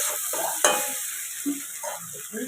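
A spoon scrapes and stirs flattened rice (chire) pulao with vegetables in a sizzling pan, giving soft, uneven strokes close up over a faint, steady frying hiss.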